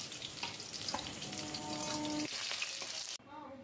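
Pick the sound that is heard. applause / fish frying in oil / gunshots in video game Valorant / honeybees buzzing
fish frying in oil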